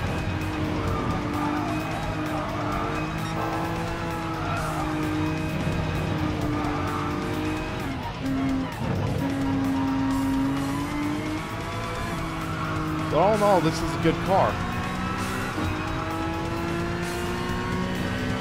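A car driven hard on a race track roars continuously through shifting engine revs, with tires squealing and skidding in bursts through corners. A driver's voice talks briefly over the engine.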